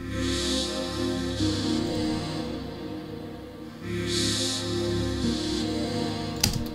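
Morphed square-wave synth patch drenched in heavy reverb from an electronic production breakdown, a sustained washy pad with swelling bright bursts and a sharp transient near the end, with no talking.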